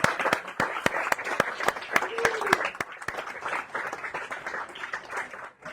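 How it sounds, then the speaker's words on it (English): An awards ceremony audience breaks into sustained clapping for medal winners, with sharp individual claps over a dense applause wash and a brief voice underneath. "let's give a round of applause to all of our medal winners and our Best of Show"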